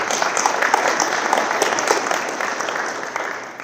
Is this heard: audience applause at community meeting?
yes